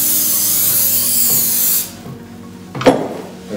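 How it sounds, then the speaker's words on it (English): Cooking spray hissing onto the sides of an oven-proof baking pan, a steady close hiss for almost two seconds, then quiet handling and a brief clunk. "I like to spray the sides of the pan"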